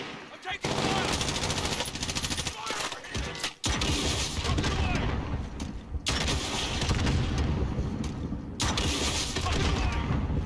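Rapid automatic gunfire in the Warzone video game, dense sustained bursts broken by brief pauses and mechanical clatter, loud and close, with intermittent shouted voices in the mix.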